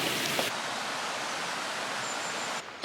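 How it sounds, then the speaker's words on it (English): A noisy waterfall beside the Pennine Way in the Yorkshire Dales gives a loud, steady broadband rush of falling water that holds constant almost throughout, briefly dipping near the end. "I'm going to pause you whilst I walk past this noisy waterfall."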